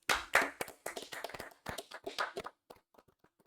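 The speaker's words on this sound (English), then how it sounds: "Please give a round of applause to Jose Manuel." An audience claps for a guest teacher at a school event, a quick burst of loud close hand claps that thins into scattered, fading claps and stops within a few seconds.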